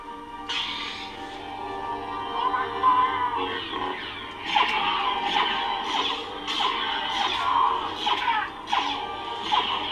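A Rogue One Vader sound font on a Neopixel lightsaber plays its Force effect, a layered, echoing electronic swell with screeching, shifting tones and repeated harsh bursts, loud and close over a low hum.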